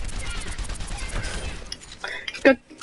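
Soldier 76's assault rifle in Overwatch rattles off a rapid stream of shots, steady for a second or two before breaking into sparse pops and a final sharp crack.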